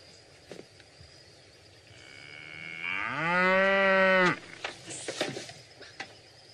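A cow moos once, a long, loud, drawn-out low call lasting over a second, rising in the middle and stopping abruptly, with faint background noise and small knocks around it.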